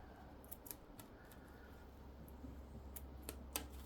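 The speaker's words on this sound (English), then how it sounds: "I'm going to get my scissors and just trim off the excess along these." Scissors snip off excess thread on a sewn iron caddy, a handful of sharp, close clicking cuts spaced irregularly over a faint steady hum.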